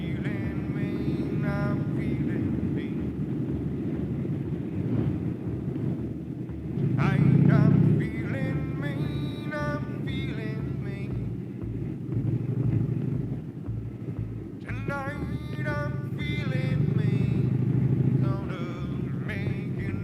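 A motorcycle climbs Kirkstone Pass in the Lake District, its engine a steady low drone with wind rumble and occasional swells, running beneath a rider's continuous talk.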